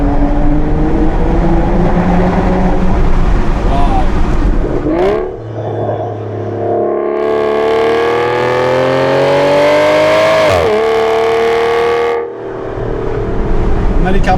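An Aston Martin DBS with a naturally aspirated 6-litre V12 revs loudly and repeatedly, engine pitch climbing and falling in sweeping rises with brief lifts between pulls, heard close from inside the car.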